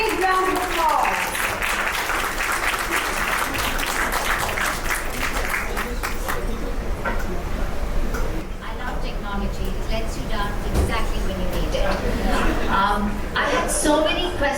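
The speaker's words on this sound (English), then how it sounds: "Please give both the ladies a big round of applause." An audience applauds two women after an onstage conversation, a dense steady clatter of many hands filling the space at close range, continuing for the whole stretch with no voices breaking through.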